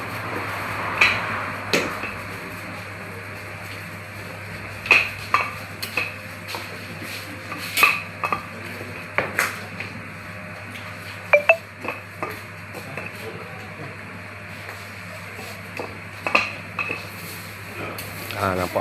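Chapati dough cooks on a hot pan amid scattered clinks and taps of utensils, with a low steady hum in the background and no talking.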